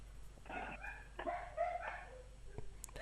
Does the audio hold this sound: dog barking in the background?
yes